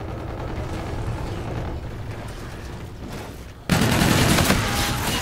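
Dense, continuous automatic gunfire rattles through a Call of Duty: Infinite Warfare match, a steady barrage that jumps suddenly louder and harsher partway through.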